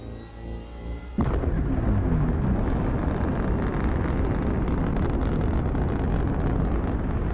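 A quiet idle gives way to a sudden loud roar as an engine fires up, then settles into a steady rumbling run close by.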